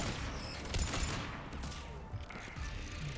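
Gunfire in the Mass Effect 3 video game, a steady barrage of shots and booms rolling on throughout amid battle noise, fairly loud with no clear speech.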